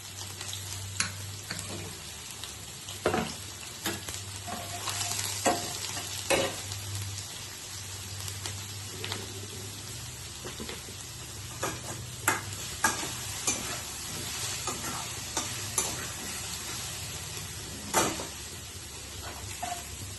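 Garlic cloves sizzle in hot oil in a pan with black cumin, a steady frying hiss broken by frequent sharp stirring clatters of a spoon against the pan over about twenty seconds; no talking.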